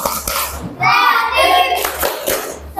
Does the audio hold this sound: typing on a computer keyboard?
no